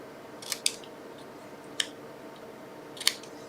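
Scissors snipping the corners off a card in a few sharp, close clicks spaced across a few seconds against a quiet room.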